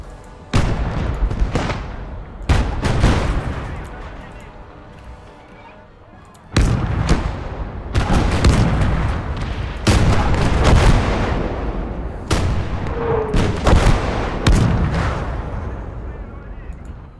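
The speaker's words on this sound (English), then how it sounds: "And there's another heavy gun." Heavy gunfire and artillery booms in a World War II video game battle, arriving as repeated loud bursts and blasts over several seconds, with someone talking over the combat.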